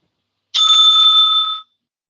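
A timekeeper's bell rings once at a debate, a single bright metallic ding that sustains for about a second and then fades, alone and close.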